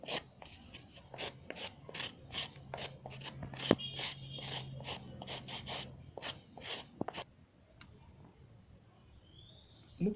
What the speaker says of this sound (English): I call this sanding tool, we use it to file the edges